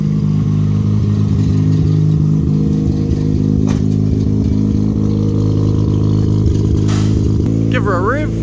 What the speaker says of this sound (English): Give her a rev.